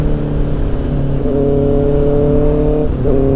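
A Honda CBR 650R motorcycle engine hums steadily under load, its pitch dipping briefly near the end as a gear is shifted without the clutch; loud, close and continuous.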